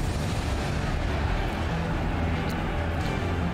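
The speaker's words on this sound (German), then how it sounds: "Ich kann da einfach einen Schuss reinsetzen." Cannon fire in the strategy game Forts, a continuous heavy barrage with dense booming rumble and no pauses.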